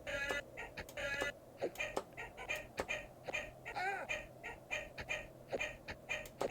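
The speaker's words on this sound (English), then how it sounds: "Damn mutant chickens." Mutant chickens in the video game Barbarian II, repeated quick electronic clucks and squawks in an irregular rhythm, with sharp clicks between them, at moderate loudness.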